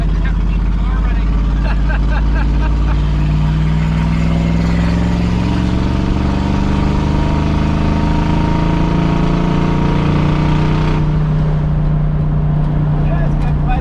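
Engine of a 1966 Buick Skylark running and revving, a loud, close, rumbling idle that climbs as the revs build and then drops back abruptly near the end, with speech heard over it.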